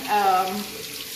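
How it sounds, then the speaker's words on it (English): Yellow squash rinsed under a running kitchen tap, a brief close splash of flowing water that fades out within about a second. "I have some yellow squash. I simply rinse."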